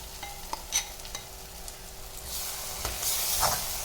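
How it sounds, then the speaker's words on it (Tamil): Ground masala paste being sautéed in oil in a pan, with soft sizzling and a few light stirring scrapes that build into a louder hissing fry toward the end, heard close up. "இந்த மசாலாவை இப்போ அதில் நல்லா சேர்த்து மறுபடியும் அதை நம்ம இப்போ வதக்க போகிறோம்."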